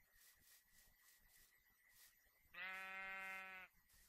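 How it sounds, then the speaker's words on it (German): A single clear Minecraft sheep bleat rings out for about a second, standing out over a quiet, faint background with soft intermittent noises. "Schafe, Schafe, Schafe."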